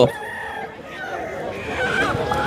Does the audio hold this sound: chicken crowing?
yes